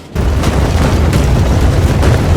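Cannon fire booms in a Total War battle game recreating the 1812 Battle of Borodino, one loud blast rolling into a sustained heavy rumble of artillery and battlefield noise.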